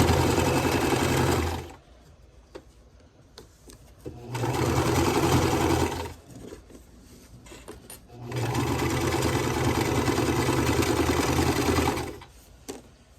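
A sewing machine stitches a quilt block seam in three loud, steady bursts of rapid mechanical whirring, separated by short quiet pauses, close up with no talking.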